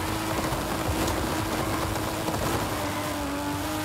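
A car in Forza Horizon 5 roars off the line using launch control, its engine note dense and loud throughout, with steady high revving and tire noise and no talking.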